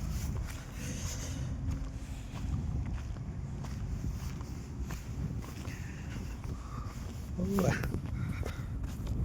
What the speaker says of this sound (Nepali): हावा पनि के साह्रो हावा चलेको हो, चिसो हावा चलेको त